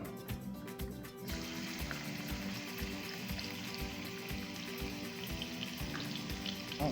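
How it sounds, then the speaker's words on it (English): Garlic fries in olive oil in a pan, a steady, dense sizzle with faint crackles. A sharp burst comes as it hits the oil, then the hiss holds loud and even throughout, with no talking. "I'm going to add my garlic"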